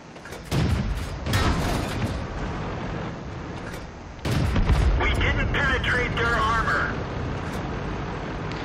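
Heavy artillery booms in the World of Tanks tank battle game: two loud, deep blasts arriving a few seconds apart, each followed by rumbling noise and lingering battle sounds.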